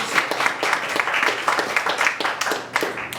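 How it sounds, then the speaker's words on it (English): Audience applause at a winery performance, a steady wash of many hands clapping close by that swells and fades in waves over a few seconds, with no talk over it. "Round of applause."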